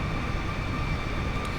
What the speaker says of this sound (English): in the hope that they fly off when they hear the roaring sound of this jet